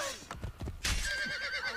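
A horse in Assassin's Creed Brotherhood gives a sharp, close neigh, a shrill whinny rising over a few hoof thuds and clops in quick succession.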